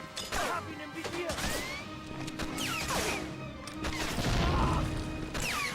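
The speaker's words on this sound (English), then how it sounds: "You were caught in that explosion?" An explosion in a PlayStation 2 video game, a burst of crashing, booming game effects with rapid impacts, over a busy mix of game sounds and talk.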